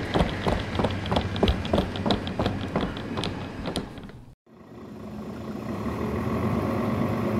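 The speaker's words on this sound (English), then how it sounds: "You can catch a bus here." A bus engine idles at a bus stop with a rhythmic, pulsing throb for several seconds, then a brief cut gives way to a steadier, lower rumble.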